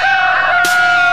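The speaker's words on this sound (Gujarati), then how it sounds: "પ્રેમથી કુકડે કુક બોલો" A loud, close rooster crow plays as a sound effect on a radio show, one drawn-out harmonic call lasting about a second.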